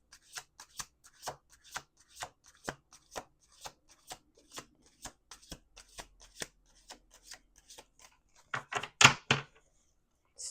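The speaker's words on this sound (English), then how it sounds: "Two more shuffles." Tarot cards are shuffled by hand in a quiet room, producing a series of crisp, close riffling snaps at an uneven rhythm that ends in a louder, denser flutter.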